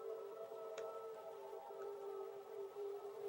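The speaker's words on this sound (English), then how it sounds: "those are my sirens in the background" Tornado warning sirens wail faintly in the distance as a steady sustained tone with slow rising and falling, heard alone without talking.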